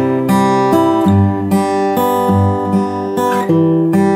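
A guitar plays the verse chord progression of a song, with strummed chords changing in a steady repeating pattern, close and clear, without any talking.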